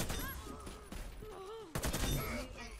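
Gunfire in the video game Warface on Nintendo Switch, a few sharp shots including a sudden loud crack partway through, mixed with game effects and voices talking over it.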